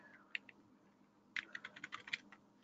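Typing on a computer keyboard during a software demonstration: a couple of isolated key taps, then a quick burst of several clicks, close and fairly quiet, with no voices.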